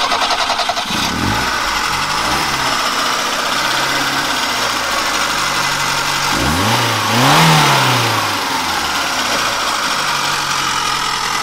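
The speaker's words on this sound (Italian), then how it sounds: "accendici sentiamo qua il sound appunto dell'auto" A Fiat 128 SL 1100 engine starts and runs at a steady idle close by, with a brief rev swelling the low rumble before it settles back to an even, continuous drone.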